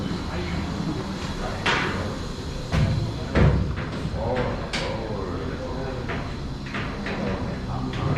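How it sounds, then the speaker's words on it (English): Doors in a work bay fitted with photo-eye sensors being shut, giving a series of sharp clunks and thuds spread over several seconds, with one heavier bang midway, all over a steady background hum of machinery. "I'm gonna close these doors."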